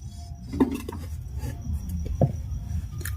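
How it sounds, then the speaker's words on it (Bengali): A metal cake bowl is set down on a tiffin box lid inside a pressure cooker, giving a couple of soft metallic clinks and scrapes, quiet and close, with light rattling in between. "এই টিফিন বাটির খাপের উপর আমি কেকের বাটিটা বসিয়ে দিচ্ছি"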